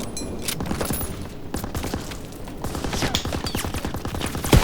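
Sustained rapid machine gun bursts rattle through a WWII battle in a game, dense and loud, with overlapping shots and a sharp crack at the end.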